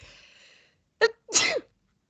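A single sharp sneeze, a quick intake then a loud burst, close by, following a faint murmur of talk.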